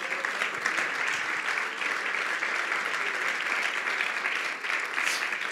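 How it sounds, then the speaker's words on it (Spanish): A church congregation claps during a sermon in a steady, sustained wash of applause, fairly loud and continuous throughout, with a hint of voices mixed in. "Denle un fuerte aplauso a Cristo."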